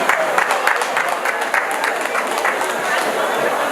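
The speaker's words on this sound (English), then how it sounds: "Can we have a round of applause for Mr." Steady applause from a crowd at a cultural association's anniversary celebration in the UK, honoring a guest, dense clapping sustained throughout with no pauses.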